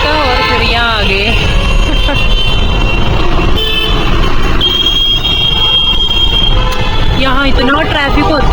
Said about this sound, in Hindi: यहाँ इतना ट्रैफिक होता है गाड़ियाँ